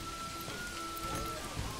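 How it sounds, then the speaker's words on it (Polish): Rainfall in the medieval city-building game Manor Lords, a continuous soft hiss of drops, with a faint steady tone and a few low thuds underneath. "Strasznie dużo deszczu mi tu pada ostatnimi czasy,"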